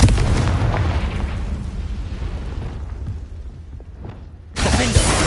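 A Confringo spell bursts in Hogwarts Legacy as a deep, rumbling fiery explosion that starts loud and slowly fades over several seconds, followed by another abrupt burst of sound at the end.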